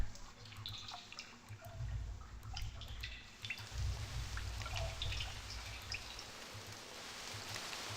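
Water drips and trickles steadily into a stone chamber in the Myst video game, a soft continuous watery wash with faint droplet patter and no voices.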